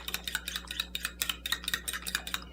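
A fork clinks rapidly against a bowl, mixing lemon zest for a Portuguese-style flan, with quick, close, repeated taps in an uneven rhythm and a low steady hum underneath.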